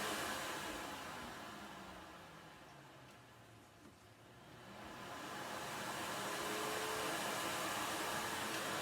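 An Electrolux central vacuum system powers up through a wall hookup. A steady, loud broadband whoosh dips in the middle and then swells back to a constant roar of suction, with no voices over it.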